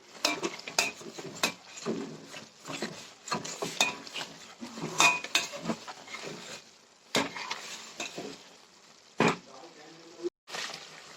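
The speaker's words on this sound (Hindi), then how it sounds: "चलाते रहेंगे क्योंकि घी नीचे लगने का डर रहता है।" Spoon stirring homemade ghee in a metal pot on the stove, with repeated scraping and clinking strokes against the pot and faint bubbling between them.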